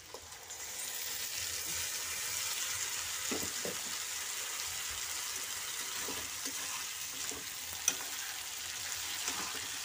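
Spiced masala sizzling and frying steadily in hot oil in a pan for a potato and chickpea curry, a continuous hiss with a few faint stirring clinks, no talk.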